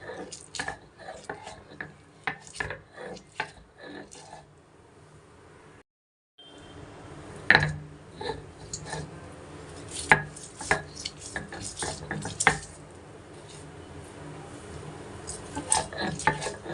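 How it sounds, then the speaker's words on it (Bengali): Fried onion, garlic and green chillies with a little salt are ground on a stone slab (shil-pata), giving irregular close knocks and scraping strokes with a short pause partway through. "এবার এগুলোকে আমি শিলপাটায় বাটব।"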